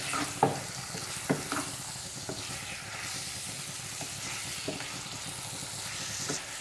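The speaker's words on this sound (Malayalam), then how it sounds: "ഇനി ഇത് നമുക്ക് നന്നായിട്ടൊന്ന് മിക്സ് ചെയ്തെടുക്കാം." Chicken liver fry with pepper being stirred in a pan, a steady sizzle and hiss under a few sharp scrapes and taps of the spoon against the pan.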